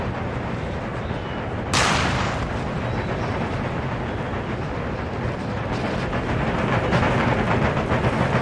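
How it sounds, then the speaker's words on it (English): Howitzer cannon fire in the strategy game Empire: Total War during a siege of Brussels, a dense rumbling barrage with one sharp blast standing out above a continuous roar. "focus the cannon howitzer first."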